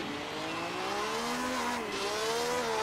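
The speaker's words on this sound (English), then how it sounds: "Eugenio Castellotti loses control and skids off the track." A 1955 Formula One race car at the Argentine Grand Prix skids off the track, its engine note sweeping and wavering loudly with a sustained tire-squealing whine for about three seconds.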